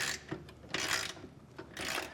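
A socket wrench works a nut loose on a trailer crossmember on a 2018 Highland Ridge Mesa Ridge camper, with three bursts of rasping, ratcheting turns separated by short gaps, quiet and close.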